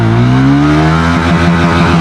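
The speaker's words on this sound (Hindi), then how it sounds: "अब टेस्ट करते हैं कि हर गियर में इस बाइक की क्या मैक्सिमम स्पीड है, फर्स्ट गियर से लेके 6 गियर तक हर गियर में" A Triumph Tracker 400 motorcycle accelerates hard in first gear, its engine note rising steadily and loudly up close with no talking.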